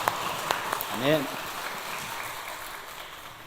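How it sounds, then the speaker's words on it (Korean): A Korean church congregation at a Sunday intergenerational worship service gives steady, moderate applause that fades gradually, with a single voice speaking briefly over it early on. "우리 하나님께 영광의 박수 올립시다"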